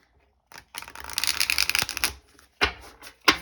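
Oracle cards from a deck are shuffled in a run of dense riffling and flapping from about half a second in, followed by a couple of sharper slaps as the deck is squared up.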